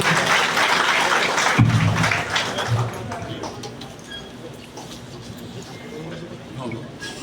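Applause from a crowd at a union ceremony, loud and dense at first, then thinning and fading into room murmur and voices as it dies away.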